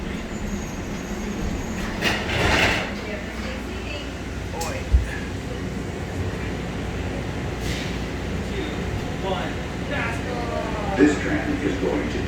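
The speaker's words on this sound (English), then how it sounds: "This tram is going to D gates." An airport tram at Las Vegas airport running on its rails, a steady low rumble with occasional clanks and faint wheel squeal, carried under an automated announcement.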